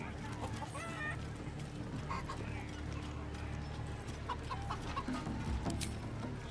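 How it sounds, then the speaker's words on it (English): Chicken clucking in the Baldur's Gate III video game, repeated clucks over a busy background of hoof-like clopping and ambient game noise, moderately loud. "You just gotta chase the chicken round the course and through the posts."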